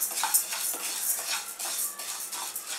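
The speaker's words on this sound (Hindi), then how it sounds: "अब डालते हैं उड़द दाल, इसे भी भून लेते हैं।" Urad dal roasting in a pan for chakli flour, with steady light scraping and rattling of a spoon against metal as the lentils are stirred, close and continuous without speech.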